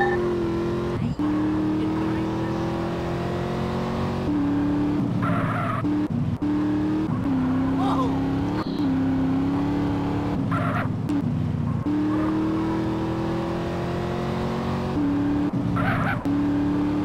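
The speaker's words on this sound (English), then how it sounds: "Trying to do the pit maneuver without destroying the car." Tires squeal and skid as a car spins out during a pit maneuver in GTA San Andreas Definitive Edition, with a steady engine drone, repeated screeching slides and a few thumps, loud and close throughout.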